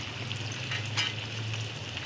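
Whole garlic cloves sizzle in a pan of frying onions, a steady close hiss with faint stirring clicks and no talk.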